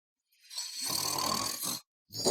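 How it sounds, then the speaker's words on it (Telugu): A sleeping man snores loudly with one long, rough, rumbling snore, a brief pause, then the start of another, close up with no talking. "విపరీతంగా గురక పెట్టి మరీ పడుకున్నాడు"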